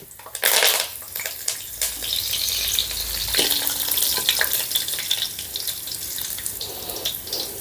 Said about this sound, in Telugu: ఆయిల్ వేడైందండి ఒక టీ స్పూన్ జీలకర్ర వెల్లుల్లి రెబ్బలు కరివేపాకు